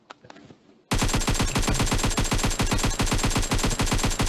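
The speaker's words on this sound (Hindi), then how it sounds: "चार को गोली चलाया है" PUBG gunfire erupts after a brief quiet moment into a sustained, rapid automatic stream of loud, close shots that continues unbroken to the end.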